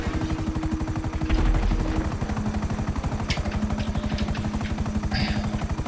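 A helicopter flies in Grand Theft Auto V, its rotor chopping in a fast, steady rhythm over a constant engine drone, loud and continuous.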